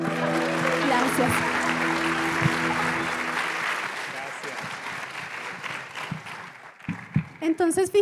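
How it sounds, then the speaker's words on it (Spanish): An audience applauds at a family talk on forgiveness, the clapping starting loud with music-like tones underneath and then thinning out into scattered claps by the end. "¡Aplauso!"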